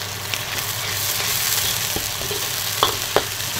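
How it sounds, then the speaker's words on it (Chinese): Meat fries in hot oil with ginger, garlic and chili bean paste for mapo tofu, giving a steady close sizzle with a few scraping stirs and small pops. "油烧热，肉下锅， 下姜蒜、豆瓣儿"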